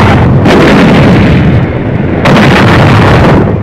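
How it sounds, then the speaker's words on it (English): Long-range German artillery guns firing shells across the English Channel in wartime footage: a loud, continuous rumbling roar with two heavy blasts marking fresh discharges. "The long-range German guns were getting hot from throwing shells across the channel."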